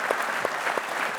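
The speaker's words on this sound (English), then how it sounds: "Round of applause for Riley too" A studio audience on a TV show breaks into brief, loud, dense applause, a continuous crackle of many clapping hands lasting just over a second, with no speech on top.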